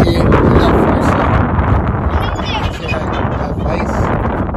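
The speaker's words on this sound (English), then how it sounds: "It's kind of windy out here now" Wind blowing at a beach, a loud continuous buffeting roar across the microphone that never lets up, with people talking faintly underneath.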